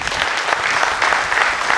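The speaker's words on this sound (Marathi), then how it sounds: "फक्त जोरदार टाळ्या वाजवायच्या मिसेससाठी." An audience at a retirement farewell ceremony breaks into loud, sustained clapping that fills the room evenly throughout.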